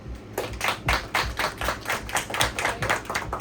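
Brisk clapping from a group of listeners at a Girl Scout presentation on mental health awareness, a rapid steady patter of many hands that fills the whole moment with no talk over it.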